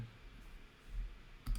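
A right mouse click on a computer while working in design software: a faint, short click near the end, heard against low room noise with no talk.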